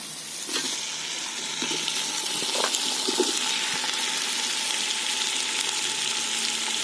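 Onions and tomatoes sauté in a pot for mushroom biryani, a steady close sizzle and frying hiss with occasional stirring clinks and scrapes throughout.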